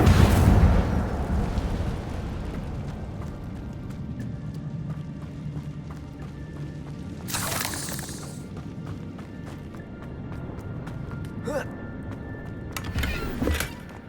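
Incendio fire spell cast in Hogwarts Legacy, a loud whooshing burst at the start followed by crackling game ambience and a few sharp bright flares later, with no one talking.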